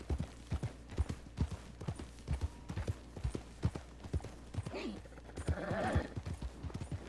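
Rhythmic hoofbeats clip-clop steadily throughout, with a horse's whinny breaking in near the end; Red Dead Redemption 2 game audio, clear and fairly close.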